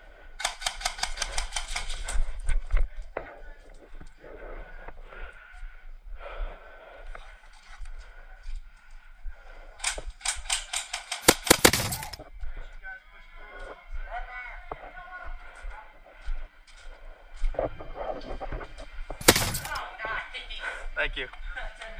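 Sharp rapid bursts of airsoft gunfire during an indoor CQB game, clustered in quick strings that come and go, some loud and close, with players talking between and over the shots.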